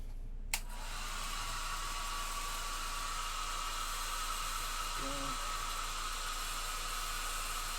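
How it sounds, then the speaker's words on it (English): A hair dryer blows with a steady, loud whooshing hiss after a brief click at the start, continuing without pause. "I guess we could speed it up with a dryer"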